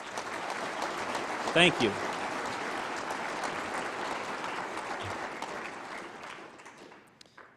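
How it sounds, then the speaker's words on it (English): Steady applause from a large crowd fills the room at an Eagle recognition dinner, with a brief spoken thanks rising above it near the start; the clapping fades away at the end. "Please join me in one more round of applause"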